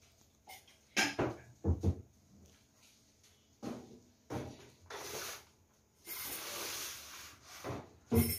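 Sagun cake batter of toasted coconut, toasted tapioca flour, eggs and coconut milk being stirred in a bowl, giving intermittent scraping and rubbing strokes with soft knocks, close but quiet, separated by short pauses, with no talk.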